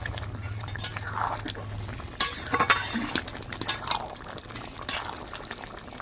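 A spoon stirs a prawn and pointed gourd curry with potato in a pot, making wet sloshing and scraping sounds in uneven strokes close by over a low hum of cooking.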